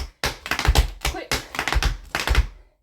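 Tap dance shoes beat out a slow-quick-quick pullback rhythm in an intermediate routine, with bursts of sharp metallic clicks and toe scrapes grouped into four close, loud clusters separated by brief pauses.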